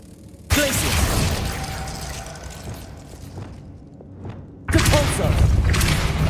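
The Glacius freezing spell cast in Hogwarts Legacy bursts out with a sudden loud whooshing blast that fades into an icy hiss, followed a few seconds later by another heavy burst of sound.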